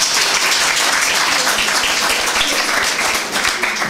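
An audience at a poetry evening claps steadily for a few seconds, a dense continuous wash of hand claps with no voices over it.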